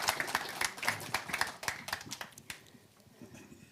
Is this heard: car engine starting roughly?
no